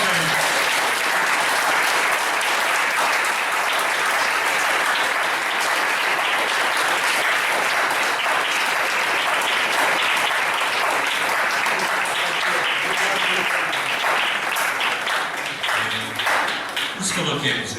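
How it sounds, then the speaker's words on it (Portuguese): A church congregation at an anniversary worship service applauds in a long, loud, sustained wash of clapping, with voices mixed in toward the end. "Aplauda aí."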